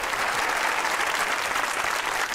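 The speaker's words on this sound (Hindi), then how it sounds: "ताली होनी चाहिए सलमान के लिए।" A studio audience applauds a guest on the Pakistani TV comedy talk show Hasna Mana Hai, a dense, steady burst of clapping with no voices over it.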